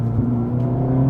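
An Acura Integra Type S with an MBRP exhaust idles with its exhaust valves open, giving a steady, loud, low droning rumble that holds evenly for just over a second.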